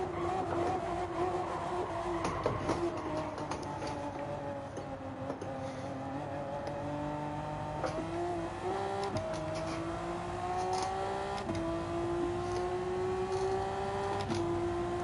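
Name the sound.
Honda NSX V6 engine in video game Gran Turismo 7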